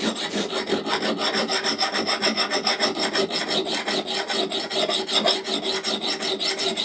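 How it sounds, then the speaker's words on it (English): A camp axe blade is worked with a coarse, aggressive file, giving steady back-and-forth rasping strokes in a close, continuous rhythm with no talking. "So you want to choose your most aggressive file."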